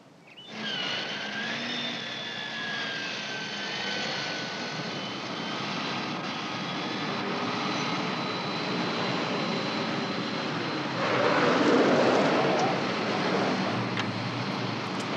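A fixed-wing airplane's engine drones steadily and fairly loud with no voices, the roar thickening slightly toward the end.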